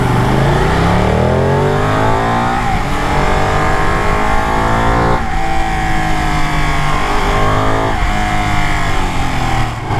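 Ducati Panigale full-fairing superbike on new tyres, its engine loud and close throughout, with revs rising and falling in repeated sweeps as gears change while riding.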